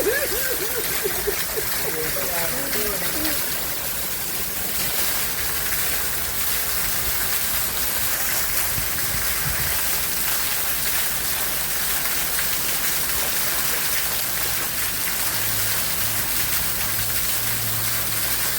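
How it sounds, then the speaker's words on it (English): Heavy rain pours down steadily in Kingston, Jamaica, in a dense, continuous hiss, with a few voices briefly audible near the start. "It's a lot of rain, guys."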